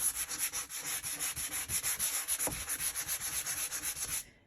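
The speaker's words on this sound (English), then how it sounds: "then you just sand this smooth" A handheld electric sander smoothing wood, its steady high motor whine pulsing with a rhythmic scrubbing rasp about every quarter second, close and continuous until it cuts off at the end.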